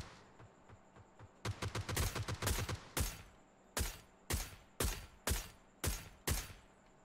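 Gunfire in the video game PUBG: a quick cluster of sharp shots followed by about half a dozen evenly spaced single cracks, fairly faint and with no voices.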